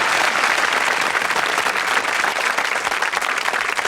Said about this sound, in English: Let's hear a big round of applause for Richard.